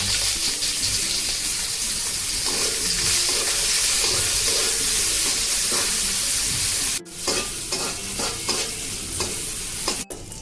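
Chopped onion with a halved dried red chilli frying in a pan, loud steady sizzling with scraping stirring strokes, a brief break, then continued sizzle and stirring.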